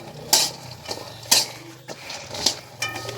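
Peanuts are stirred in a pan while they roast. A utensil clinks and scrapes against the pan in several separate bursts with quiet gaps between them, and a faint low hum runs underneath.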